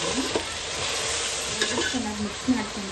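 Chopped onion and tomato stirred together in a hot pan for a country-chicken gravy, with a steady sizzle and scraping spoon strokes.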